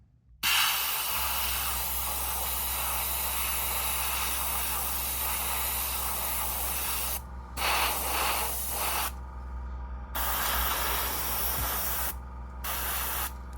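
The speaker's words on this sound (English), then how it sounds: "It's a bit stinky coming out of the airbrush." An airbrush sprays unthinned AK Real Colours paint in a steady, close hiss that runs almost continuously, with a few short breaks near the end and no talking.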